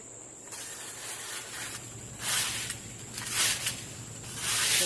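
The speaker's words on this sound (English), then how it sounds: "I don't know if y'all want to see me rake" A rake scrapes through a garden bed in uneven bursts: light scratching at first, then louder, longer rasping drags close by, with no talking.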